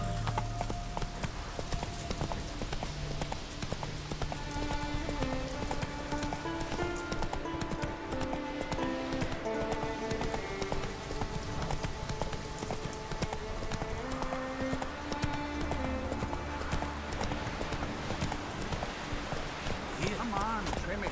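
A horse gallops with rapid clip-clop hooves in The Witcher 3, buried beneath loud, dense music and voices that run throughout.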